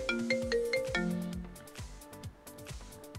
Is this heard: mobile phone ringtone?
yes